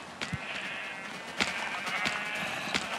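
Sheep bleating in the video game Minecraft, several overlapping nasal bleats repeating throughout at close range, with a few short clicks among them and no talking.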